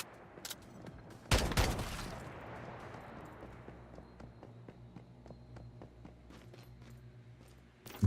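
In the video game Once Human, a light machine gun fires a sustained, rapid, evenly spaced stream of shots, faint and somewhat distant. A louder burst of noise comes early, and there is no talk.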